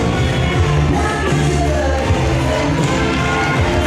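A wrestling crowd at an independent DPW show applauds Tordsen, with steady cheering and clapping filling the arena, loud and continuous, with scattered shouts and whoops.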